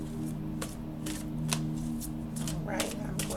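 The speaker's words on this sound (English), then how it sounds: "I'm going to continue to shuffle here." A deck of tarot cards being shuffled by hand, giving repeated short riffling bursts in an irregular rhythm, close and fairly quiet over a steady low hum.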